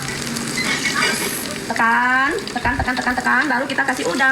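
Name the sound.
frying shrimp fritters (bakwan udang)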